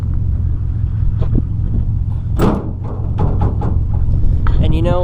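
A Nissan Titan pickup truck engine idles with a low, steady rumble close by outside the truck, while someone talks over it and a few thumps sound near the tailgate.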